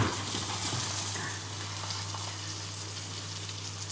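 Fresh fish frying in a non-stick pan, a steady soft sizzle and crackle heard up close and fairly quiet, with a low hum beneath and no talking.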